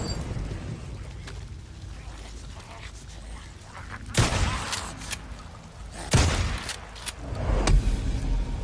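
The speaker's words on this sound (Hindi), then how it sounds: "तो एक और फ्रीकस का नेस्ट मुझे नजर आ रहा है, इसको भी उड़ा दिया जाए।" Freaker nest blown up in the Days Gone zombie video game: three sharp explosive booms with rumbling tails break through a steady background of game ambience and engine-like noise.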